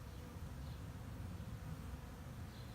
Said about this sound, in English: There's literally a couple of hundred bees outside the box right now